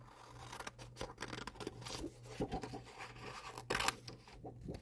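Scissors snipping through paper to cut out a text template for a Cricut craft project, a run of close, irregular cuts and rustling paper, with no talking.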